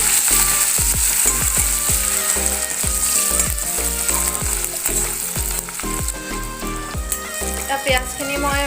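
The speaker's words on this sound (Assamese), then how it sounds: "পিয়াজখিনি মই আধা সিজা আধা কেঁচাকৈ ফ্ৰাই কৰি হ'ল" Onions and chillies fry in a pan for restaurant-style Chicken 65, a steady loud sizzle running throughout beneath rhythmic background music.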